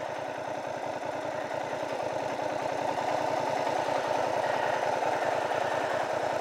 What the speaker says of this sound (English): There's a familiar motorcycle.